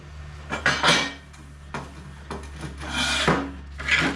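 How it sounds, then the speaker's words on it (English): Metal workpiece in a metal shop being wiped down with an acetone-soaked rag, producing intermittent scraping, rubbing strokes in short bursts, fairly close and moderately loud. "Just rubbing this down with some acetone."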